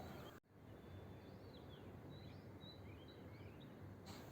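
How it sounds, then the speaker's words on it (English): Birds chirp faintly in the early morning, with scattered thin tweets and short calls over a quiet outdoor background, after a brief dropout near the start. "The birds are chirping."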